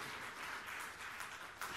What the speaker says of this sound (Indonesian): Yang percaya, tepuk tangan yang meriah.